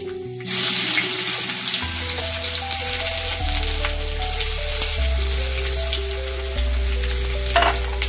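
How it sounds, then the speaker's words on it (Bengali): Garlic, a dried chili, black cumin and chopped onions go into hot oil and fry in a strong, continuous sizzle. Occasional stirring scrapes sound over a steady background tone. "আর তাতে দিয়ে দিচ্ছি 2 কোয়া রসুন, একটা শুকনো লঙ্কা, একটু কালো জিরে আর কুচিয়ে রাখা পেঁয়াজগুলো"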